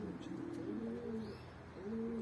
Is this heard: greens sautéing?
no